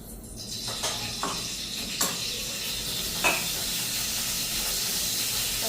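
Cabbage dropped into a hot pan sets off a loud, close, steady hiss that swells within the first second and holds, dotted with a few soft clicks and stirring knocks; nobody speaks.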